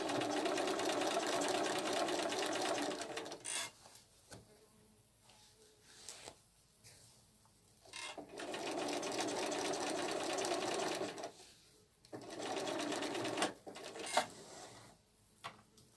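A sewing machine at a craft show stitches in reverse, running in several steady mechanical whirring bursts separated by quieter pauses with light handling noises.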